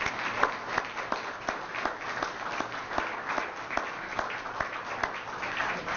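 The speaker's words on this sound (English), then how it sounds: "One last round of applause." A modest round of applause for graduates at a professional staff development certification awards event, with scattered individual claps audible within a moderate, steady patter from a small-to-medium crowd.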